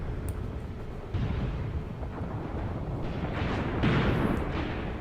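Tank gunfire and explosions in the Graviteam Tactics: Mius Front war game, a steady low rumble of distant blasts and cannon fire with a couple of heavier booms rolling through.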